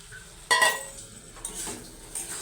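Potatoes and prawns being sautéed in a pan with Kashmiri chilli powder, a sharp clatter of utensil against the pan followed by a few softer scrapes and clinks over a low sizzle, close by.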